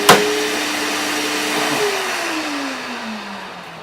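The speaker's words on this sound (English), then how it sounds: "we can hook this and retrofit it here to our dust extractor, put it on manual" A Festool CT dust extractor starts with a sharp click and spins up to a loud, steady whooshing roar, its motor whine sliding downward in pitch as it settles, with no one talking.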